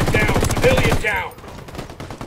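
Rapid automatic gunfire in Ghost Recon Wildlands rattles loudly for about a second, mixed with a shouted voice, then cuts off into quieter ambience.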